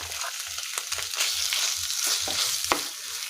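Raw plantain pieces fry in a pan, a bright steady sizzle with regular low thumps and scrapes of stirring roughly twice a second.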